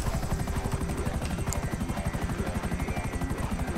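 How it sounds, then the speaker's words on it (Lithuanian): A helicopter in GTA V flies close by with a loud, steady rotor chop of rapid, evenly spaced thumps and a whining turbine layered over it, with no talk. "O ne, vienas kažkoks žmogus su šito sraigtasparniu skrenda"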